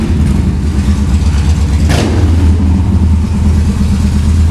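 A Yamaha V Star 1300 motorcycle engine running loud and close with a deep steady throb and a brief sharper rev in the middle.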